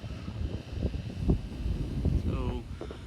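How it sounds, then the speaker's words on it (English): Gusty wind from the outer bands of Hurricane Irma buffets the microphone in a steady rough rumble, with faint background sounds underneath. "So it's about 60 degrees out and it's very, very windy."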